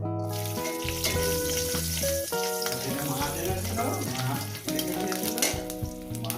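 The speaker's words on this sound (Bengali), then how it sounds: "এরপর দিয়ে দেবো একটু রসুন রসুনটা আগে ভেজে নেব" Garlic frying in a little hot oil for a tomato and aubergine mash, a steady bright sizzle running throughout beneath continuous background music.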